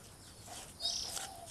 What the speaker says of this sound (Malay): Baru ambil anak murai.